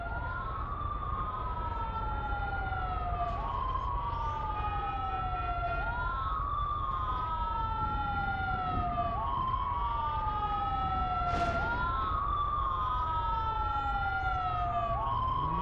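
Ambulance siren in GTA V with LSPDFR wails in repeated rising-and-falling sweeps, steady and fairly loud over a constant engine rumble, with a brief sharp burst partway through.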